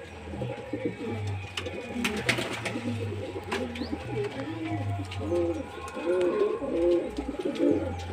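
Pigeons in a loft coo steadily in overlapping, rolling calls, close and continuous, with faint rustling and occasional sharp clicks in the background.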